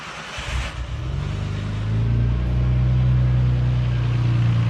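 A Nissan RB26 engine fitted in a 300ZX fires up after a brief cranking whir, then settles into a loud, steady, close rumbling idle that swells a little in level.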